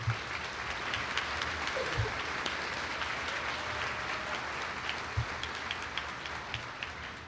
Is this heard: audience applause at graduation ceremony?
yes